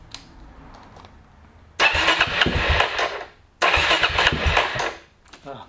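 A Suzuki DRZ400 dirt bike being cranked over in two loud bursts of starter and engine noise, each about two seconds long with a short gap between them, the engine not catching and running on.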